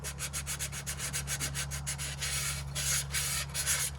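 Sandpaper rubs over JB Weld filler on a cylinder of a 1958 Plymouth engine, giving rapid, rhythmic rasping strokes, close and steady over a low hum.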